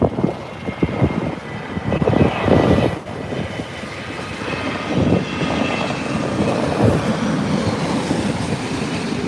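A British Airways Boeing 787-9 at London Heathrow produces a loud, steady jet engine roar with some gusty rumbling pulses early on, heard close with no talking.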